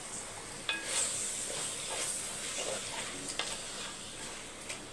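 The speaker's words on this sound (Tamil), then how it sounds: "இப்போ இந்த சைத்தில் நம்ம ஊற வச்ச சிக்கனை சேர்த்துடலாம்" Marinated chicken goes into a hot onion-tomato masala for chicken curry, raising a faint, steady sizzle and hiss with a few light clicks of a spoon, and no one talks.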